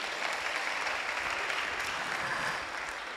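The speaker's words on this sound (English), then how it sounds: "A round of applause once again, please." An audience at an awards ceremony claps steadily, a dense, even wash of applause that stays loud for about three seconds before easing slightly at the end.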